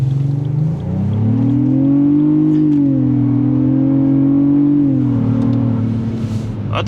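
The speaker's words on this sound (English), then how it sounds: "It definitely pumps in a lot of engine sound." A Lexus GX550 Overtrail+ engine, floored in Sport Plus mode, revs hard and climbs steadily in pitch under acceleration, holds a strained drone, then drops as it eases off. It is heard from inside the cabin.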